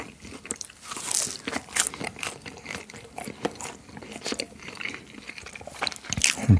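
Frozen wood-fired quattro cheese pizza is eaten right at the microphone, loud crisp crunching bites followed by steady wet chewing, repeated throughout.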